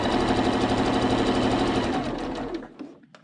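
A sewing machine stitches elastic onto a fabric mask with a rapid, steady mechanical chatter of needle strokes, close and loud, slowing and stopping near the end with a few small clicks.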